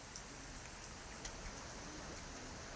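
Steady rain with strong wind on a morning of stormy weather, an even, dense hiss of falling drops that fills the whole stretch without pauses or voices.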